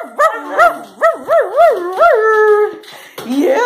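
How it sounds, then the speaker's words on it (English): A young female puppy yips and barks excitedly at feeding time in a series of high, wavering, howl-like cries, close and loud, several in quick succession. "You see her barking?"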